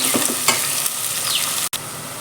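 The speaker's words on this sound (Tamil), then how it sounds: "இது கொஞ்சம் வதங்கட்டும் எண்ணெயிலேயே அது கொஞ்சம் வதங்கணும்" Onions sautéing in hot oil for a coconut milk rice dish, a steady close sizzle with a few stirring scrapes and a brief dropout near the end.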